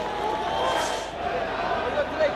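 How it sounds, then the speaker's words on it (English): A cricket stadium crowd roars in sustained cheering and shouting for a wicket during Pakistan versus England, a dense continuous swell that holds loud throughout. "Biggest cheer of the day so far"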